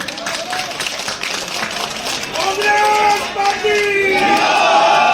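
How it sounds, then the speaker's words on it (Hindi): An outdoor political gathering crowd in Delhi breaks into loud clapping with shouted slogans and cheers, swelling midway and staying loud to the end. "आप जोरदार तालियां बजा दें।"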